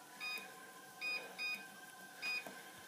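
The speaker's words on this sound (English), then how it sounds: "put the timer on for another 2 minutes" An oven timer gives short electronic beeps while being set for a batch of cold dough cookies, four quick chirps spaced irregularly over faint kitchen background noise.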